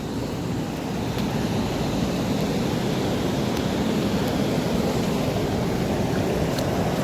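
The Alaknanda river at Keshav Prayag, its confluence with the Saraswati, flows as a continuous broad rush of water. The roar stays steady and close throughout, with no voices.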